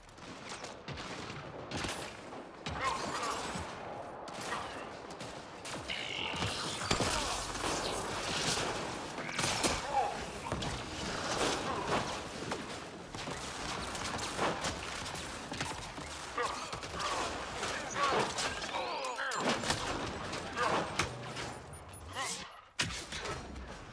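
Gunfire in Mass Effect: Andromeda multiplayer, with bursts of shots and impacts piling into a sustained, busy clatter of combat noise. A voice speaks briefly among the shots.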